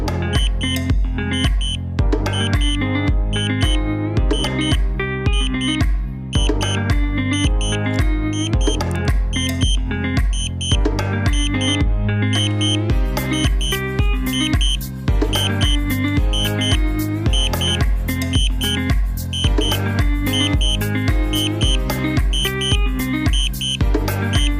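A DJI Spark drone's flight app sounds its low-battery warning, a continuous string of rapid, evenly spaced electronic beeps repeating in a steady loud pattern with no talking.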